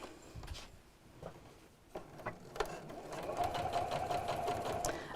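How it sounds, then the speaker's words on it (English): A sewing machine runs close by, stitching binding around the edge of a bag flap with a rattan handle, starting in short stop-start bursts and then settling into a steady whirring run. "And then we'll sew."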